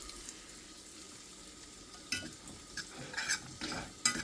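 A spoon stirs milk into a simmering cheese pasta sauce in a pan, giving soft continuous scraping with a few sharper clinks and splashy stirs toward the end, close and fairly quiet.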